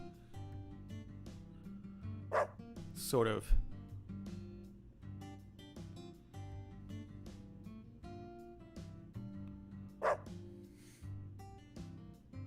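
A dog in the video game Deadly Premonition 2 gives two sharp barks a few seconds apart, set against background game music, while someone talks briefly.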